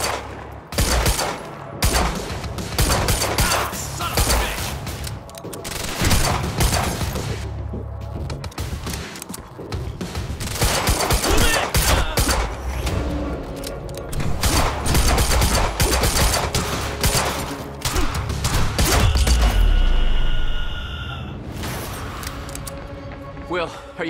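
Gunfire in the video game Quantum Break, with rapid bursts and single shots crackling loudly and repeatedly throughout while voices shout over the shooting.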